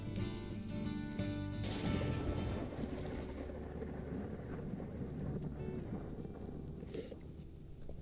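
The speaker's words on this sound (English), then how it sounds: "Thunderstorm." Video game thunderstorm, a deep rumble of thunder rolling early on over continuous wind and rain noise that stays steady and moderately loud, with no talking.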